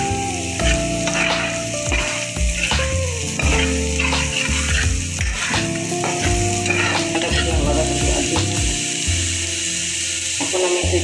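Onions with a light sprinkle of roasted cumin powder sizzle and fry steadily in a pan, with a dense continuous hiss and occasional scraping stirs, loud and close throughout with no talking.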